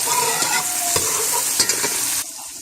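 Roughly three cloves of garlic sauté in a hot pan, a steady close sizzle with scraping stir strokes running through it, easing off near the end.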